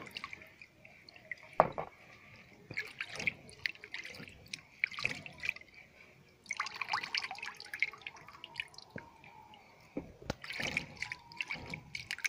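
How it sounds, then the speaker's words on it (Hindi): Water is poured and sprayed over a newly installed water meter, giving intermittent dripping and splashing bursts with short pauses between them, fairly close and moderate in level, with no speech. "थोड़े देर तक पानी डालते रहेंगे।"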